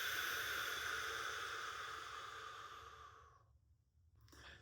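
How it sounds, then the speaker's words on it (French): A slow, steady breath exhaled through the nose during a guided belly-breathing exercise, a soft airy hiss that fades out, followed by a brief faint breath at the end. "Et expire."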